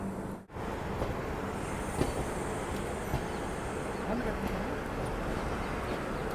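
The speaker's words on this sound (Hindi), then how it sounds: "सामने डीजल लोको WDP 4D" A WDP 4D diesel locomotive on Indian Railways rumbles past as a steady broadband roar with faint wheel and rail clatter, heard continuously at moderate volume from close by.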